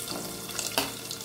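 One large, thinly sliced onion fries in hot oil with mustard seeds, giving a steady, close sizzle with a brief louder crackle partway through.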